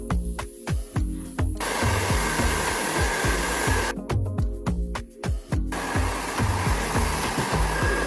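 Hair dryer blowing steadily on hair during home styling, a loud continuous whoosh that pulses and shifts as it moves, with a brief softer patch midway and no talk over it.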